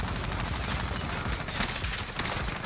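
Rapid automatic gunfire in the video game Warzone, a dense, continuous fusillade of overlapping shots at close range with no pauses.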